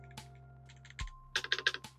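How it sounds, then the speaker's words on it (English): Keystrokes on an Akko 5075S plastic mechanical keyboard with QMK/VIA firmware: a few sparse taps, then a quick burst of five or six crisp, moderately quiet clacks with a soft bottom-out, close up and without talk. "The sound of the keyboard, while not loud, it has a pleasant bottom out."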